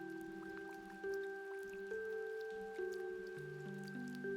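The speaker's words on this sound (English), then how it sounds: "Sound of falling rain as you hit the umbrella." Rain patters steadily on an umbrella in the video game Omori, soft dripping taps beneath sustained musical tones, quiet and continuous throughout.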